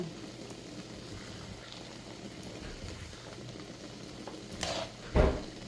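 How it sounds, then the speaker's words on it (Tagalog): Vegetable rice noodles tossed with sauce are stirred in a pan, giving soft, faint scraping and sizzling under low room noise, with a couple of brief louder clatters near the end. "So, haluin lang natin."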